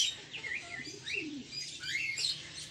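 Breeding racing pigeons in a loft coo softly and chirp, with a few calls overlapping and a faint wing flutter, close by and fairly quiet, no talking.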